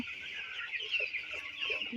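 Sixteen-day-old broiler chicks chirp and cluck continuously in a dense, high-pitched chorus with no one talking.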